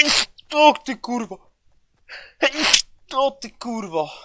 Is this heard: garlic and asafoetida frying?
no